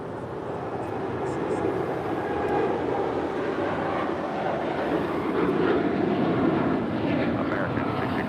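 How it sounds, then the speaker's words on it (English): Boeing 787-8 Dreamliner at LAX preparing to depart from the south side, with a steady engine rumble throughout, fairly distant, under intermittent talk and radio chatter. "787-8 Dreamliner, getting ready for a departure here on the south side"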